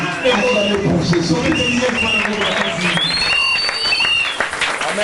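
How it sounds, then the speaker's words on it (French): A church congregation at a French-language spiritual seminar claps and cheers for Jesus, producing a dense, loud, continuous wave of applause mixed with shouting voices. "Acclamez pour Jésus"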